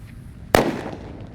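A purple disco happy flower firecracker bursts with a single sharp, loud bang, followed by a crackling, fizzing tail that slowly fades out; no talking.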